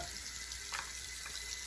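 Tap water runs steadily into a sink as hands are rinsed early in the morning, a soft continuous hiss at close range with no talking over it.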